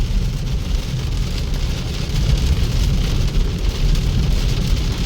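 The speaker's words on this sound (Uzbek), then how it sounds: "Yomg'irga qaranglar. Dahshat yog'yapti borim." Heavy rain pouring down in a steady, dense hiss of drops on surfaces, loud and unbroken for the whole stretch with no voices.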